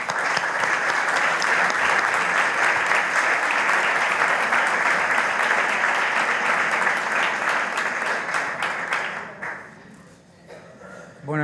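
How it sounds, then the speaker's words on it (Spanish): An audience at a lecture on Velázquez and Seville gives strong, continuous applause that holds for several seconds, then thins and fades out near the end. "Supongo que los aplausos son para el presentador."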